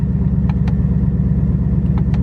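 A 2018 Ford Mustang GT engine in race exhaust mode idles with a steady low, throaty rumble, loud and close, with a couple of faint clicks over it and no talk.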